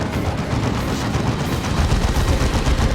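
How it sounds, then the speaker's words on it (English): Rapid, continuous autocannon fire in the strategy game Dawn of War 2, a dense, loud stream of overlapping shots with no pause. "Get the autocannon on these guys, I think."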